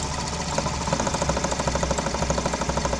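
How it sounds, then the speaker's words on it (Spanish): A small electric motor in a short-circuit demonstration whirs steadily at close range, with a rapid, evenly pulsing mechanical beat that quickens slightly as it speeds up, with no talking. "Se acelera el motor."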